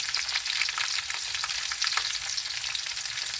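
White onion frying in a pan with ginger and garlic, a steady, close, loud sizzle with faint crackles and no talking.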